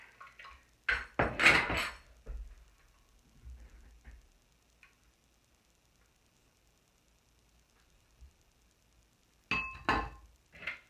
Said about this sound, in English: You're just going to plop it in the pan.